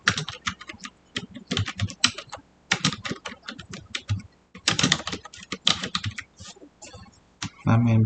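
Rapid bursts of keystrokes on a computer keyboard as data is entered into an investment information system, clustered in uneven runs with short pauses, close and clear with no speech.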